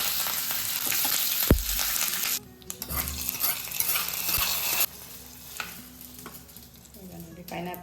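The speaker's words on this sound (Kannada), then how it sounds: "ಸ್ವಲ್ಪ ಎಣ್ಣೆ ಹಾಕ್ಕೊಳ್ತಾ ಇದ್ದೀನಿ, ಸಾಸಿವೆ ಹಾಕ್ಕೊಳ್ತಾ ಇದ್ದೀನಿ." Mustard seeds and curry leaves crackle and sizzle in hot oil for a tempering over pineapple menaskai (pineapple gojju), a loud, dense spitting hiss with a few sharp pops and clatters that steadies into continuous frying.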